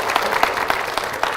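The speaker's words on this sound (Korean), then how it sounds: "두 분께 축복의 박수 부탁드립니다" Church congregation clapping in blessing for a couple, a brief steady burst of many hands with a few sharper claps standing out, moderately close.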